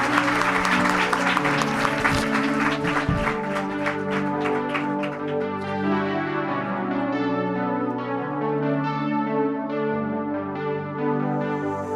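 A studio audience at a comedy show applauds, bright claps that fade after a few seconds into a sustained ringing bell-like tone with layered harmonics that lingers to the end.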